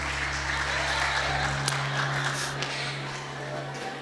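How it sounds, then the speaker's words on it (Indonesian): A church congregation claps for the wives at a pastor's prompting, a steady wash of applause from a full room, with a low sustained hum underneath and scattered voices mixed in. "Tepuk tangan dulu buat mereka."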